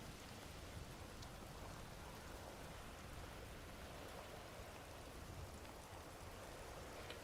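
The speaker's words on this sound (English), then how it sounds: "Yeah, it's raining, brother." Rain pours steadily, a faint, unbroken wash of drops with no change in rhythm and no voices.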